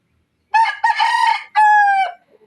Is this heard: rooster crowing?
yes